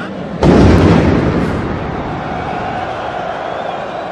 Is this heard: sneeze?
no